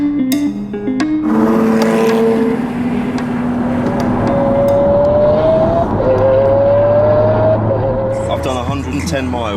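Lamborghini Aventador supercar on a Scottish road trip, its engine revving up through rising tonal sweeps, changing gear and climbing again, loud and close, with voices over it.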